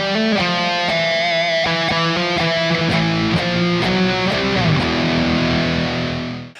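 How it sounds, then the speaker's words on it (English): Electric guitar through a heavy distortion pedal plays a series of crunchy, sizzling chords, then lets the last one ring out and fade. "distortion as being a heavier sound with more sizzle"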